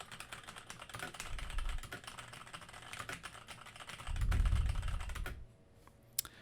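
Rapid, continuous clacking of a mechanical keyboard being typed on, close and steady with a busier, heavier patch of keystrokes near the end before it trails off into quiet with one last tap.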